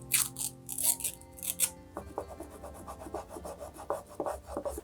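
An oil pastel is rubbed lightly across paper to lay down a pale base tone, giving soft, close scratchy strokes in quick irregular bursts with no talking.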